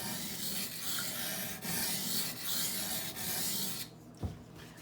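A knife blade rasps across a Norton water stone in a series of rhythmic sharpening passes, each stroke a close scraping rub separated by brief pauses, ending with a short clack.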